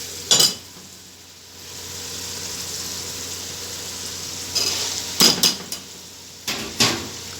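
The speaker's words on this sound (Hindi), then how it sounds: "इसमें हम चनों को ऐड करेंगे" Chickpeas are tipped into hot masala in a pan while cooking Lahori chana, giving a steady sizzle broken by several loud metallic clanks and scrapes of utensils on the pan.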